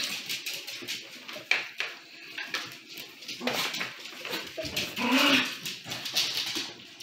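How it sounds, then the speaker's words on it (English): Dogs whimper and whine in a home kitchen setting, with high, thin cries coming in uneven bursts and a few louder yelps, alongside light clinks of dishes nearby. "These dogs."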